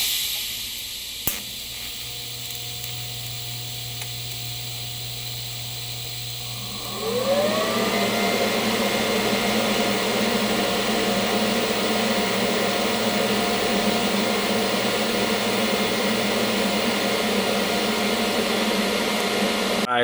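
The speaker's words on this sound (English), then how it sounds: "So this is gonna be the first piece of my weld." A back-purged car exhaust downpipe being TIG welded under foil and tape: a quiet hum, then a sharp click as the torch strikes into a loud, steady hiss that holds to the end.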